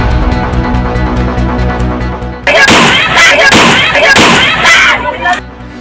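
Gunfire sound effect in a news report on a shooting in Morena, Chambal: a sudden run of loud, sharp blasts and bursts breaks in after a steady musical intro and continues for several seconds.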